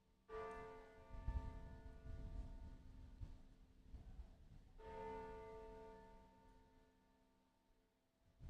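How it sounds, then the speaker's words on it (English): A bell rings to open the morning at an Indigenous Legacy Gathering. Two long, resonant strikes swell and slowly fade, moderately distant, with a third stroke starting at the end. "You hear the sound of the bell? It means we have to start."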